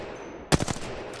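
Apex Legends weapon fire: two or three sharp shotgun-like gunshots crack in quick succession after a quiet stretch, loud and near, with a faint tail afterward.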